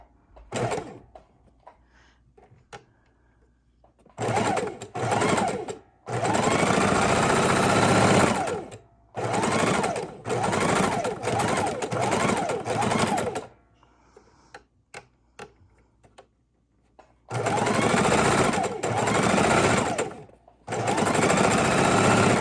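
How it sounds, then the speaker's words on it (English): A sewing machine stitches raw-edge appliqué on a Halloween quilt with brown thread, running in loud bursts of rapid mechanical whirring separated by short pauses and clicks, close up, with no talk. "We're going to sew around with brown thread."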